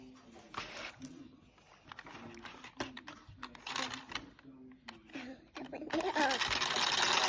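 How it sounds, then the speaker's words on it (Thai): A sewing machine stitching clothes in a laundry shop whirs in quick bursts, stopping and starting, with voices talking over it; the motor runs steadily louder near the end. "โอ้มีเย็บเสื้อผ้าด้วยนะคะ"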